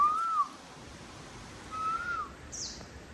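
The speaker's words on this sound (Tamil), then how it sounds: "அங்கே ஒரு செட் ஆஃப் மயில் இருக்கு." Wild peafowl on a forested hill call outdoors, giving two rising-and-falling whistled cries about a second and a half apart, moderately distant, over quiet ambient background.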